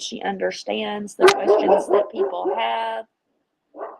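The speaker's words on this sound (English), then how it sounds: "Sorry, that was my dog." A pet dog barks in a home in brief yips and woofs, mixed in with someone speaking close to the mic; her talk goes on over the barking, then a short final bark follows after a pause.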